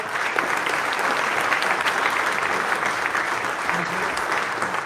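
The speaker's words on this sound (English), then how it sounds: "Big applause for him and Sato." Audience applause at a KTM MotoGP team presentation, dense sustained clapping from a large crowd, steady and loud for the whole stretch.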